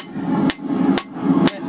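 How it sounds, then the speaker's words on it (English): Three sharp, evenly spaced hammer blows ring on hot iron being forged into a hook for a heart-shaped plant hanger, each strike loud and close over a low steady hum of shop noise. "Then you just pound it down like this, and it does the same basic thing."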